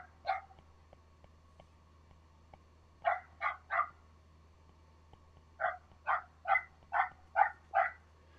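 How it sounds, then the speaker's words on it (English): A dog barks in short clusters, first a single yap, then a run of three and a faster run of about seven, all at moderate distance over a faint steady hum, with no talking. "The dogs are going to bark today."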